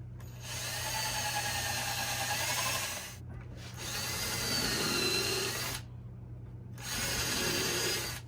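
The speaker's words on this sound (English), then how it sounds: "I'm going to drill 1 screw into each of the center holes here" A power drill whines through wood in three loud bursts, driving screws into a wooden bird feeder, each burst lasting a few seconds, separated by brief pauses.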